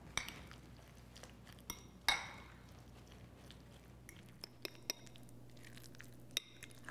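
Guacamole with tomatoes, onions, lime, salt and pepper mixed in a bowl, with soft scraping and scattered clinks of a utensil against the bowl, quiet and irregular.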